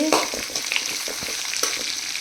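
Onions frying over a low flame make a steady, close sizzle with soft crackles and occasional stirring scrapes, without any voices.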